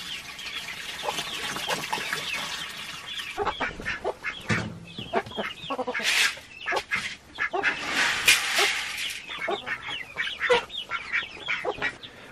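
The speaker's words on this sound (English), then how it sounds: "We have 9 barred rock chicks or pullets, whatever you want to call them." Barred Rock chicks cluck and chirp busily at close range, overlapping calls in an irregular stream with a steady background hiss.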